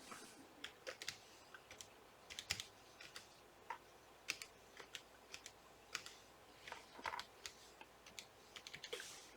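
Keys clatter on a computer keyboard as a Wi-Fi password is entered, a steady stream of quick, light clicks in short bursts, close and fairly quiet, with no talking.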